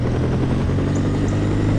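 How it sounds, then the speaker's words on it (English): A helicopter in The Operative: No One Lives Forever gives a loud, steady rotor roar and whine that stays constant and close throughout, with no voices over it. "that's the helicopter from Unity"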